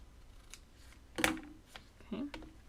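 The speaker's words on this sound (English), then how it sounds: "I still have ribbon scissors," Scissors snip through paper while cards are being made, with a few sharp, close, quiet cuts, the clearest two spaced about a second apart, over a near-silent background.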